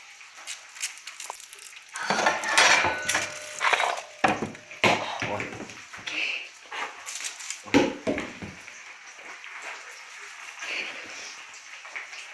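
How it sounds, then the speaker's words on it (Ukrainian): Onions are being chopped with a knife on a board for a simple home dish, with irregular sharp cutting knocks coming in quick bursts, fairly close but quiet. "Хорошенько можна цибулі накроїти, щоб було пахуче."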